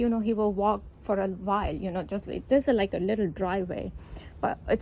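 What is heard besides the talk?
No everyday noise stands out behind the speech.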